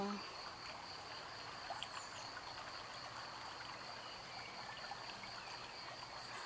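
A river flows past at a steady, faint, continuous wash, with a soft hiss of moving water throughout and no clear voices.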